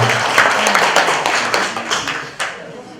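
At an anti-corruption citizens' association appointment ceremony in Gimpo, an indoor audience claps loudly and continuously, many hands overlapping in a dense wash with a few sharper individual claps near the end.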